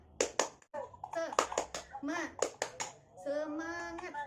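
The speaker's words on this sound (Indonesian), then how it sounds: "mari kita tepuk semangat dulu ya Bu ya" A group of women in a health and nutrition training session perform a tepuk semangat, a rhythmic clapping chant: short bursts of claps mixed with lively chanted voices, close and uneven, ending in a drawn-out sung call.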